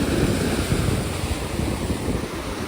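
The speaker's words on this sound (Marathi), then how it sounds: "समोरच्या लाटा बघताय ना खूप तीव्रतेने वर जात आहेत" Rough, swollen sea near the Tivri harbour jetty at Ganpatipule, with waves surging high: a steady, loud, broadband roar of surf and wind that runs without a break from start to end.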